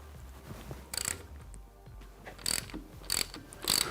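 Hand tool and lever work on a 12th-generation Toyota Corolla front shock absorber, giving several short, sharp metallic ratcheting clicks in bursts, close and moderately loud, with no talking.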